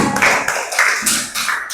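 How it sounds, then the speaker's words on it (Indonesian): A group of children clap their hands in a classroom, a quick run of close, sharp claps in loose rhythm, loud and with no talking. "go tepuk tangan dulu untuk semuanya"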